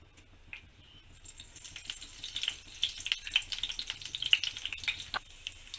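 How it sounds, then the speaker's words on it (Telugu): Tempering spices for poha sizzling and crackling in hot oil in a pan, starting quiet and building to dense, close popping spatters that continue to the end. "ముందుగా తాలింపు దినుసులు వేసుకోవాలండి."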